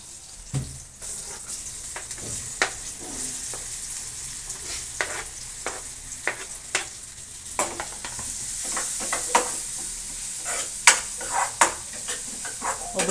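Tomato palya sizzles steadily in a pan, with a soft, constant frying hiss broken by repeated scraping clicks of a spoon stirring it, close and alone.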